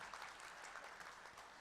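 At a university convocation ceremony, an audience breaks into applause to welcome a Padma Bhushan honoree to the podium. The clapping is steady and dense, heard from a distance and faint, with no voices over it.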